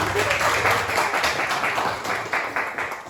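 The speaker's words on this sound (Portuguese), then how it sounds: "Palmas para Jesus." Church congregation claps during a Portuguese-language service, a loud, dense wash of applause filling the room that fades toward the end, with a voice faintly present beneath.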